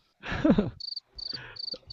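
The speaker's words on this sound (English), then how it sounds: "crickets" Crickets chirp in short, bright, regular bursts, the steady insect trill broken by a loud muffled thump near the start.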